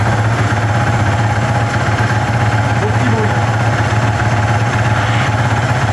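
A new petrol quad bike with an old-style engine runs steadily at idle, a loud, continuous low rumble with an even pulsing throb throughout.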